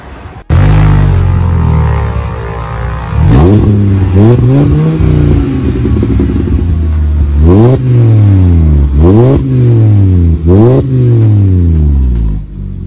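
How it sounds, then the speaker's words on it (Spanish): A car engine fitted with a sport muffler starts and revs repeatedly through a deep, throaty exhaust, each rev climbing sharply then falling back to a rumbling idle, loud and close. "déjenme prenderlo porque a mí lo personal este mufle me gusta cómo se escucha en este carro"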